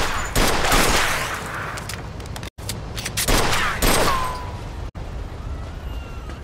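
Loud, close gunfire in the video game Mafia 2 comes in several rapid volleys of shots separated by brief gaps.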